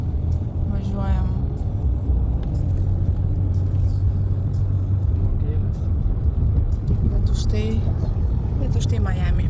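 Inside a crowded car on an Uber ride in Miami, a low engine and road rumble runs steadily under people talking.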